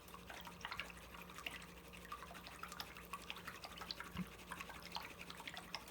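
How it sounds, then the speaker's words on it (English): An acrylic paintbrush is rinsed in a cup of water, making faint, soft swishing and scattered drips at a quiet, close level, with no talking. "now wash your brush out"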